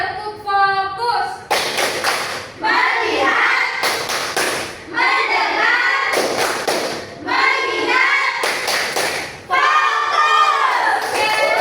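A class of schoolchildren performs the Indonesian rhythmic clapping game tepuk fokus in a classroom icebreaker, sharp bursts of group clapping alternating with chanted children's voices in a repeating pattern.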